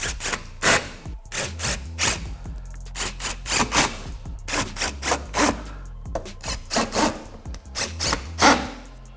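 Factory screws are driven back in while fitting an aluminum three-piece front splitter on a 2010-2012 Mustang, giving steady rhythmic rubbing and grinding bursts of a power tool, close and continuous.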